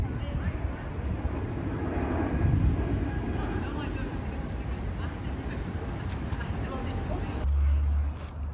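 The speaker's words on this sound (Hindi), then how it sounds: "और जहाज़ जा रहा है क्योंकि हम एयरपोर्ट के पास रहते हैं।" A steady broad roar fills the scene as an airplane passes overhead near an airport on a cloudy day. The drone stays loud and continuous throughout, with a low rumble swelling toward the end.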